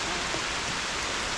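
Rain near Greeter Falls, Tennessee pours down as a dense, steady broadband hiss, loud and close, with no distinct drops or pauses.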